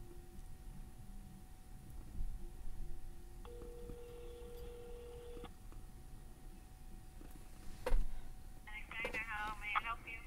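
An outgoing phone call is placed from a gold Apple Watch Series 8, with a steady low tone, then a faint ringback tone and electronic chirps near the end, while a voice talks quietly in the background.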